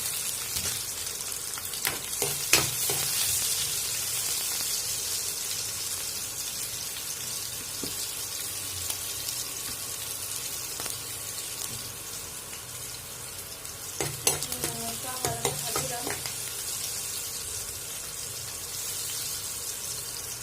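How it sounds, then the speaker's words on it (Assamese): Onion and chili frying in hot oil in a kadai, a steady loud sizzle throughout, with a few sharper spattering bursts and faint stirring clatter partway through. "তেলখিনি গৰম হোৱাৰ পাছত মই ইয়াত পিঁয়াজ আৰু জলকীয়া দি দিছোঁ"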